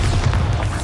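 The Bombarda explosion spell goes off in the video game Hogwarts Legacy as a loud, rumbling blast. Its deep, heavy low end rolls on without a break for just under a second.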